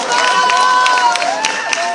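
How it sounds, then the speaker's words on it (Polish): Warm applause for a guest at a commemorative plaque ceremony, a dense crowd clapping briefly and steadily with a voice over it. "gorące brawa"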